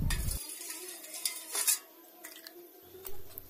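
Tamarind water is stirred in a bowl, a spoon scraping and clinking against the sides in a few short bursts with quiet pauses between, close and faint, with no voices.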